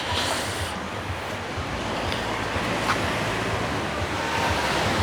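Ocean waves washing onto Kuta Beach in Bali, a steady, broad surf roar with some wind buffeting the microphone and no clear break between swells.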